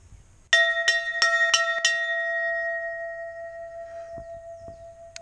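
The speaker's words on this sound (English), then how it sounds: "time to ring the bell and bring everyone in for a brew" Hand bell rung outdoors to call people in for tea, five quick bright clangs close by, then a long shimmering ring fading away, with a couple of faint knocks near the end.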